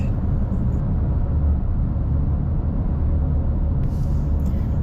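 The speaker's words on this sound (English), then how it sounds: "you can really hear the RPMs of the car engine going over this steep bridge" A car engine drones steadily at high revs while climbing the steep Cooper River bridge in Charleston, a loud, constant low rumble with road noise and no talking.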